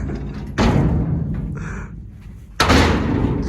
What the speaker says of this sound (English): Container shut